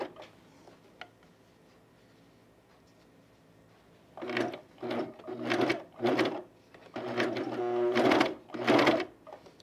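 A domestic sewing machine stitches through thick fabric: after a quiet stretch with a few small clicks, it runs in several short bursts of rapid whirring, close and loud.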